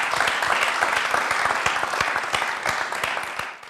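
A church audience applauding at a gospel event: dense, continuous clapping from many hands, loud and steady throughout before tapering slightly at the end.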